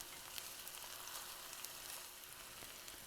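Meatballs fry in a skillet with a steady, dense sizzle and spitting crackle that stays even and close throughout, with no talking.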